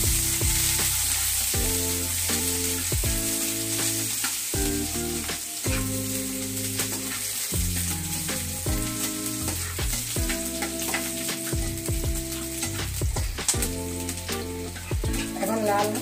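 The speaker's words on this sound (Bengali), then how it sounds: "এখন দিয়ে দিচ্ছি সরিষার তেল বাগারের জন্য, আর দিয়ে দিব পেঁয়াজ কুচি।" Chopped onion sizzles in hot mustard oil with a light panch phoron tempering for a beef tripe curry, a steady, close frying hiss that runs throughout beneath background music.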